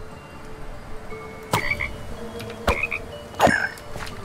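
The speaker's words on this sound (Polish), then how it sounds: "A tu jest żabka." Frogs croak in the Minecraft DREAMcraft modpack, three distinct croaks spaced about a second apart over a steady ambient bed of game noise.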